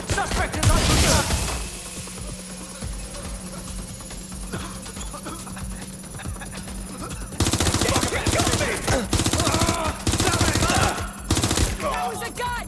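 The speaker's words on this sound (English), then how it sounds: "That was a gun!" Gunfire crackles through a Watch Dogs: Legion firefight, sharp bursts and single shots scattered across the clip, loudest in dense clusters near the end, mixed with shouting voices and game ambience.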